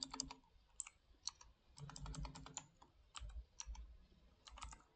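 Fingers type code on a computer keyboard in quick bursts of close, crisp key clicks with short pauses and a few heavier thumps, quiet and alone without speech.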